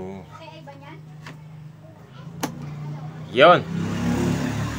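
A Hanabishi electric fan that had only been humming, its repaired motor now starting and spinning with a steady low drone, a few sharp clicks and a whooshing swell, while a person speaks briefly.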